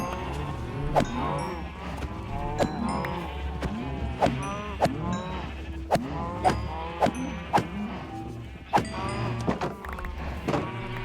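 Cattle in the Minecraft video game, with repeated moos and short percussive clicks and hits from gameplay over a steady game backdrop.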